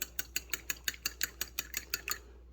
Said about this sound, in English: you can get you a wire whisk, and you're going to whoop these eggs up right quick